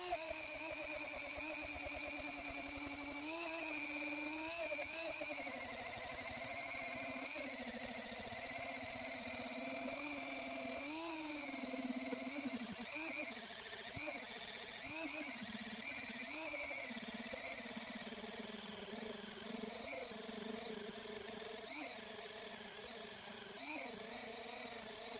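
A drill bores a series of holes through a shoe lift wedge, giving a steady, continuous whirring drone at close range that shifts in pitch as the bit cuts. No one talks over it.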